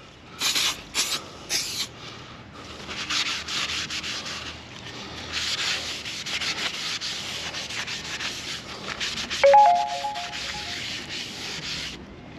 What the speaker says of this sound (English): Turn it over and do exactly the same for the back half.